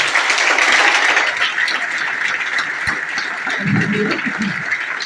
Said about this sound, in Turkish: ben hepinizin tüm bu sporcuları alkışlamak için bir tekrar ediyorum.